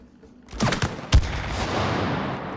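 Gunfire in the co-op video game It Takes Two, a couple of sharp close blasts followed by a roaring burst that fades out.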